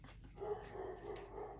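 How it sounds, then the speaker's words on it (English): A chocolate labrador barks in a short run of close, insistent woofs with a rough, growly edge over a steady background hum, loud enough to dominate the moment. "Oh my God, that dog, I swear."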